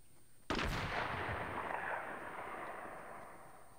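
Gunfire from enemies in a video game: a sudden loud blast hits after half a second and rolls into a long, noisy boom that slowly fades.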